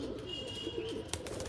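Pigeons coo softly nearby after heavy rain, a short low murmuring call under faint background ambience, with no talk.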